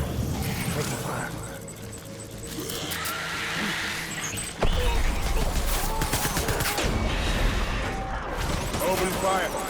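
Gunfire in the video game Death Stranding: a dense, loud fusillade of rapid shots crackling over a busy battle soundscape, with a sharp burst near the middle and voices shouting beneath.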